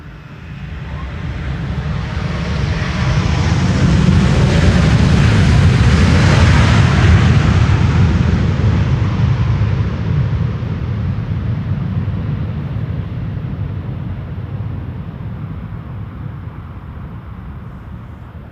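A retro-liveried Transavia airliner landing on the Polderbaan runway 18R, its engine roar swelling as it approaches, peaking loud and broad overhead, then fading slowly into a long rumble.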